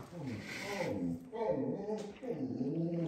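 A dog whimpers and yips for food at a home dinner table during a meal, its high whines mixed in with people talking and eating nearby.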